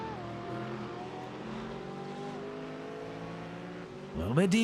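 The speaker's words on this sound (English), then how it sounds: "Sausage Superman Jack driving the number 7 Mustang tonight" A number 7 Mustang race car engine drones steadily through a race broadcast, with a sharp rising roar near the end as a car revs past up close; a commentator talks over it.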